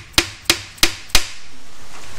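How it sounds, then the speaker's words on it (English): A brass hammer taps near the bolt area of a stuck rear brake drum on a Chevy Nova: four sharp, close metallic knocks about a third of a second apart, each with a short ring, then quiet. "I use a brass hammer on a lot of this stuff"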